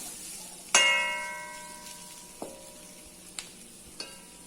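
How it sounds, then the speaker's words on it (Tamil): Masala-coated jackfruit seeds frying in a pan, a quiet steady sizzle punctuated by one ringing metallic clang of a spoon on the pan and a few lighter taps. "மசாலா பல்லாக்கொட்டை எல்லாமே ஃப்ரை ஆயிட்டுருக்கு"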